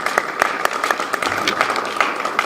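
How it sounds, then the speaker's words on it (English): Sparse applause from an audience at a mayors' conference honoring a mayor, with separate claps standing out over a steady patter, fairly light and close. "So let's have a nice round of applause for Mayor Johnny Ford"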